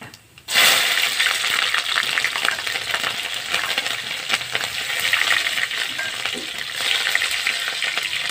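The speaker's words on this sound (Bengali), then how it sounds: "তাই জন্য ফোড়নে দেব কালো জিরে, আর দেব কাঁচা লঙ্কা" Nigella seeds and green chillies sizzle loudly in hot oil, a dense steady crackle that bursts in after a short quiet start and keeps going throughout.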